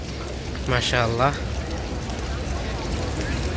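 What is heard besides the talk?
rain falling at Masjid an-Nabawi, Medina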